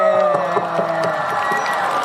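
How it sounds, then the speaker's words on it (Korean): Festival crowd at a performance cheering and applauding in a steady, dense wash that fills the whole stretch, with scattered shouts rising above the sustained roar. "다시 한번 큰 박수 한 번 부탁드리겠습니다"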